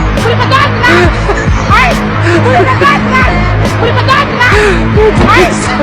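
Busy Karachi road with steady car traffic rumbling and passing close by, horns and engine noise mixed with a general hubbub of voices throughout.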